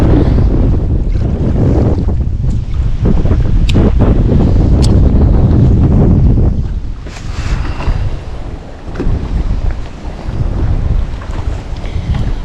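Heavy wind buffeting the microphone on a boat out on a lake, loud rushing gusts with water noise, easing slightly partway through but persisting throughout.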